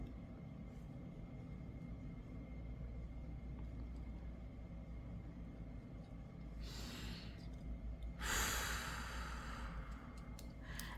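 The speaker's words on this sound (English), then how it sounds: "Breathe in and out." Slow deep breathing, a long soft breath in and out followed by a louder, longer exhale, close and quiet over a steady low hum, with no talking.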